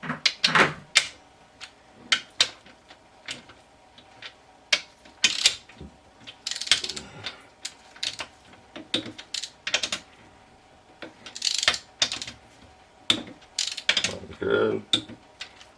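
Torque wrench clicking as crankshaft main bearing bolts are torqued on a Chevy Colorado 3.5L inline-five engine, giving sharp close clicks in scattered pairs and bursts with ratchet movement between them and no talk.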